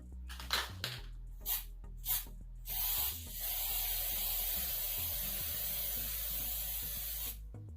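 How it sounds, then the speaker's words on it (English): A few rattling clacks from a shaken spray paint can, then a sustained loud hiss of paint sprayed onto a bottle for several seconds, close and with no talk. "And then you start spraying."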